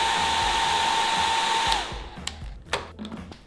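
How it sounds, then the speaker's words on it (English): A 1400-watt hairdryer blasts at full power with a steady, loud whoosh and whine for nearly two seconds, then cuts off abruptly, leaving quiet room noise and a few faint clicks. "This is what it sounds like under full power."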